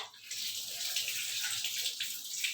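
Tur dal lentils being washed in water, a steady close splashing and running-water hiss that carries on throughout without speech.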